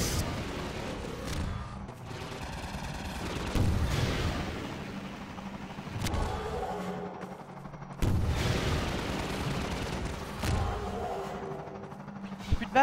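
Repeated gunfire bursts in the video game Half-Life 2, sharp booming shots and rattling volleys recurring every few seconds over a continuous game background rumble.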